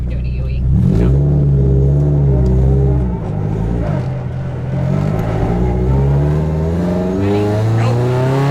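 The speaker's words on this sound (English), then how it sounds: "So clutch in, put it in first now, and just keep clutched in." Race car with a sequential transmission pulling away in first gear, engine revving loud and close with rising harmonic sweeps, while people talk over it.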